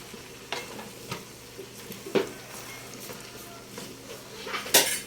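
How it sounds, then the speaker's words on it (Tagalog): Chop suey being stirred in a pan, with soft scraping strokes spaced irregularly over a low steady sizzle and one sharper clatter near the end. "Haluin natin."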